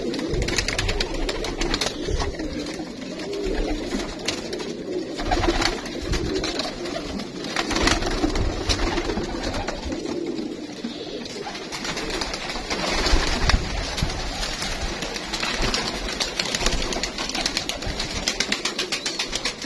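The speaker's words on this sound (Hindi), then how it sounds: "तकरीबन हर नस्ल के कबूतर अल्हम्दुलिल्लाह आपको इस केज में नजर आएंगे" Many pigeons in a cage coo softly and continuously in a close, crowded chorus, with occasional wing flutters and rustling mixed in.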